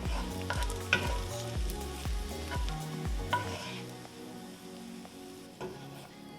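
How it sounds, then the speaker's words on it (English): Onions sizzling in pancetta fat for a caramelized onion focaccia, a close, steady fry punctuated by rhythmic spoon scrapes and stirring taps every half second or so. "we cooked the onions in pancetta fat"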